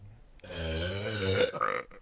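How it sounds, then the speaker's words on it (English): A long, loud, drawn-out human burp with a deep croaking tone, ending in a short rougher gurgle. "So a burp is the voluntary expulsion of air through our mouths."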